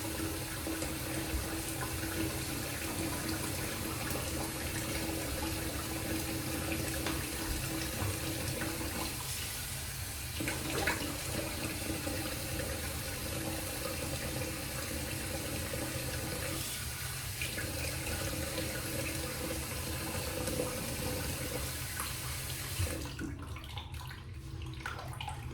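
Water runs steadily from a tap for a long stretch while a Shavemac Americana 24 mm shaving brush is rinsed, a continuous close hiss with brief changes as the flow is interrupted.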